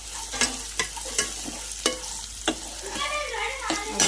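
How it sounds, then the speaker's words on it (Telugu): A spoon stirs tamarind rice with onions, chillies and peanuts in a pan, giving sharp, regular scraping knocks about every half second over a faint sizzle. "ఒక ఒక వన్ మినిట్ అట్లా కలుపుకోవాలి ఫ్రెండ్స్"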